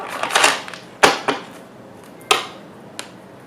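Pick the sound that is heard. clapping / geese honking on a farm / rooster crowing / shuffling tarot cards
shuffling tarot cards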